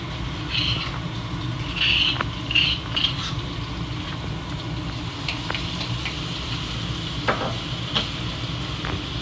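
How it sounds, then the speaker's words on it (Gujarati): Garlic and a pinch of asafoetida tempering in hot oil, giving a steady close sizzle throughout with a few faint scrapes and clicks of stirring. "લસણથી આપણે વઘાર કરશું."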